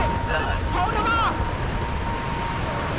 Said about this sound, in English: It's very windy.